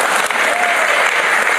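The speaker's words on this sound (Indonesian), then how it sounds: "tepuk tangan semua bagi Tuhan" A church congregation bursts into dense, loud, continuous clapping during a sermon, a brief enthusiastic burst filling the room with no pauses.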